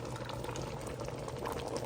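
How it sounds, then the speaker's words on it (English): A pot of fish stew bubbles steadily on the stove, a soft, continuous burble and simmer heard up close with no voices. "Bubbling away"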